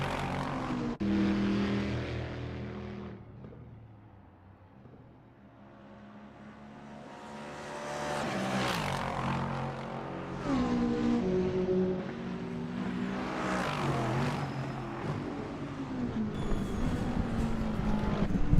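Racing cars, including a McLaren GT4 among GT3 and GT4 classes in a multiclass sim-racing league, roar and rev through gear changes, with engine notes rising and falling as cars pass, dipping briefly before building again.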